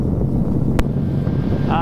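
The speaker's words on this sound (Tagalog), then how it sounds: "Napakalakas ng hangin guys." Strong wind roars against the microphone outdoors beside a 450SR sportbike, a loud continuous rumbling buffet with a brief sharp click partway through.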